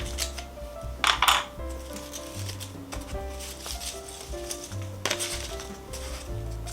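Scissors snip gift ribbon in a couple of quick cuts near the start, with clinks and handling noises of the ribbon and tabletop before and after.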